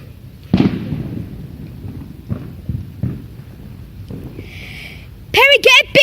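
Bonfire night firework rocket launching with a thin rising whoosh and then bursting in a single sharp bang, heard outdoors at moderate distance amid background chatter, with excited voices shouting just afterward.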